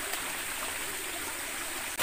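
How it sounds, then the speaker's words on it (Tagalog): A small waterfall feeding a cool, clear stream rushes and splashes in a steady, even wash of water noise, close by and unbroken, with no voices. "May maliit na talon. Lagaslas nga naman."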